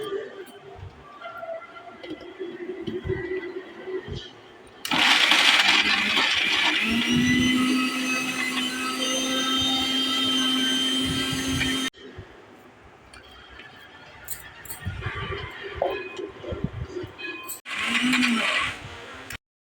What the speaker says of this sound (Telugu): మిక్సీలో ఉన్న మసాలాలో కొంచెం మనము కీమా మొత్తం వేసి మనం మిక్సీ చేసుకోవాలన్నమాట